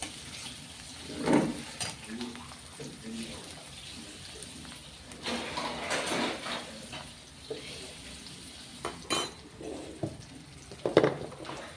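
Quiet, steady sizzling of onions softening in a pan, with occasional stirring clinks and soft bursts, faint throughout.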